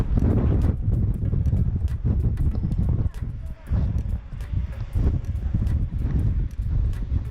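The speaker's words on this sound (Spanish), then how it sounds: "Está más bueno el viento." Strong gusting wind buffets the microphone in heavy, uneven bursts that dip briefly and return, with people talking under the roar in an open landscape in Torres del Paine.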